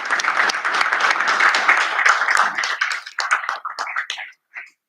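An audience at a planning commission meeting gives a dense round of applause to welcome new staff, which thins into scattered individual claps and fades out.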